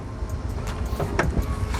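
The power sliding rear door of an affordable family car hums along its rail and thuds shut, a steady motor whir under light background noise ending in soft knocks.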